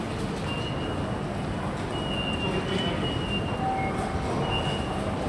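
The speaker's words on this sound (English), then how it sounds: "You can hear all the beeps of everybody going through the turnstiles." Short electronic turnstile beeps sound several times over a busy, steady rumble of a Tokyo train station, some tones longer than others.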